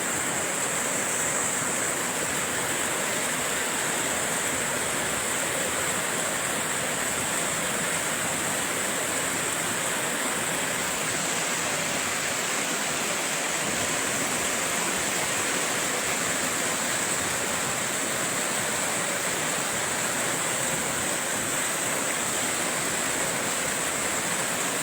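Rapid water of the Cisadane River rushes steadily and loudly at close range, a constant broad roar with no break and no voices.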